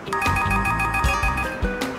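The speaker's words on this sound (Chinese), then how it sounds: "我接一下电话吼" A telephone rings in a drama scene, its electronic ringtone repeating as a steady tonal melody for about two seconds, fairly loud and up close with no talking over it.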